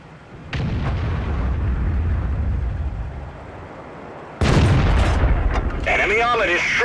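An E25 tank destroyer's cannon fires in World of Tanks, followed by heavy booming explosions, loud low blasts and rumble with a sharp impact midway and game voice callouts over the top.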